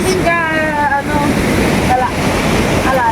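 Strong rushing river water, a loud continuous broadband roar close to the microphone, with a voice briefly speaking over it.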